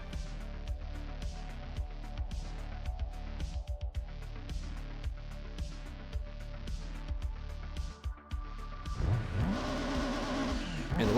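Race cars idling and revving on the grid at Midfield Raceway in Gran Turismo 2, a low engine drone with blips of throttle, rising into loud accelerating engines as the race starts.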